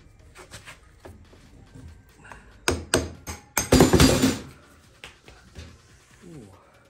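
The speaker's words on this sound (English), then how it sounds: "So we just use a hammer and help it along." A hammer knocks out an old, grimy part of a garden cart, with a few light taps followed by a burst of loud, sharp metallic strikes close by.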